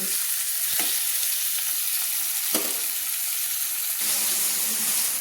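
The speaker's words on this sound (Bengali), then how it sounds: "এদিকে আমার পেঁয়াজগুলো লাল লাল করে ভাজা হচ্ছে" Onions fry over a raised gas flame in a pan, a dense, continuous hissing sizzle that stays loud and even, broken by a few sharp stirring scrapes.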